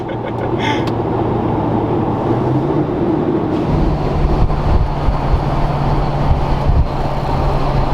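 Duramax diesel pickup truck accelerating hard from about 40 mph, a heavy low drone that deepens and thickens partway through and holds steady, heard from inside the cab with no talk.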